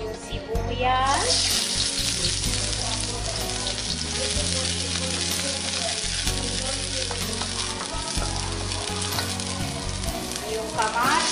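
Onions hit a hot frying pan for a pork and radish dish, bursting into a loud, close sizzle that holds steady, with stirring scrapes and faint background voices.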